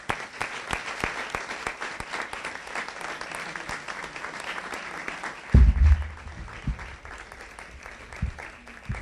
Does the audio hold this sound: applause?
yes